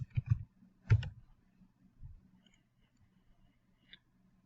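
Mouse clicks in computer software, a few quiet close-up clicks in quick succession followed by a couple of isolated fainter ones.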